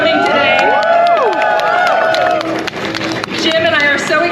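A large outdoor crowd at a Hollywood Walk of Fame star unveiling cheers, whoops and shouts continuously, with layered excited voices and some clapping, loud and close throughout.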